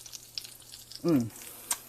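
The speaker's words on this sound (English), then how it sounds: "I don't know if you can hear that sizzling or not." A faint, steady sizzle of meatloaf with stuffing mix crackling softly just out of the oven, with a brief low hum partway through and a small click near the end.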